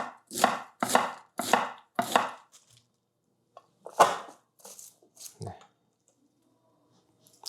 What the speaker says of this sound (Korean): 결 하나 잡고 그냥 얇게 썰어주세요.